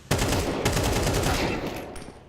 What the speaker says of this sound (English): csgo Deagle kill entry